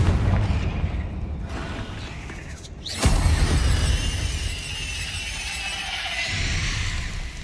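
A Confringo blasting spell goes off in Hogwarts Legacy: a sharp cracking burst hits mid-clip, followed by a rumbling, sizzling magical explosion tail over steady game ambience.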